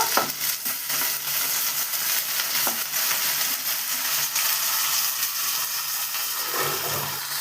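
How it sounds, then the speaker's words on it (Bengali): Potatoes and capsicum crackle and sizzle loudly in a hot coriander, ginger, onion and green chilli tempering, a dense continuous frying hiss with occasional stirring scrapes, close and alone. "তার সাথে আমি একটু ধনিয়া তড়কা লাগাচ্ছি, আদরক, পেঁয়াজ, হারি মির্চি, তো ঢেলে দিচ্ছে আলু, ক্যাপসিকাম ছোট ছোট"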